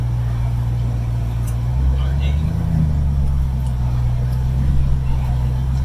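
A 1,000-horsepower Jeep Gladiator JTR, built from a Rubicon, idles with a deep, steady low rumble and a brief swell in pitch midway, close and loud.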